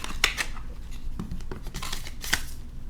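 Short crinkles and a few sharp tearing snaps of packaging being opened for an Otterbox Defender Pro case for the iPhone 17 Pro Max, close and fairly quiet, no talk.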